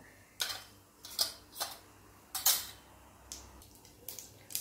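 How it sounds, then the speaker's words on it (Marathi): Mustard seeds dropped into hot oil in a pan give a series of distinct crackling pops and ticks at irregular intervals, each short and bright, over a faint low background hum. "तेल तापल्यानंतर सुरुवातीला 1 चमचा मोहरी घालायची आहे।"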